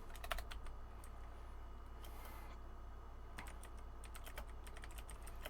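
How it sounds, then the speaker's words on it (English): Fingers type on a computer keyboard in quick, light clusters of key clicks, faint and close against a low background hum, with brief gaps between bursts and no talking. "I feel like I haven't typed in years"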